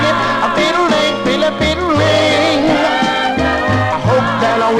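A 1963 soul record plays loud and continuous from a spun 45, with a full band and a lead vocal running over a steady bass line.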